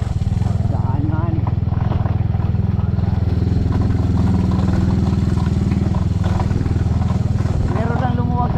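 Motorcycle with a loose screw rattling noisily as it rides along a road, a loud, steady engine drone with clattering metallic buzz throughout, close and continuous.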